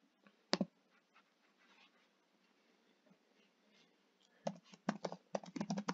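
Typing on a computer keyboard to enter quiz answers in Microsoft Forms: a quiet, close clatter of keystrokes, one sharp tap early, sparse soft clicks, then rapid bursts of keys toward the end.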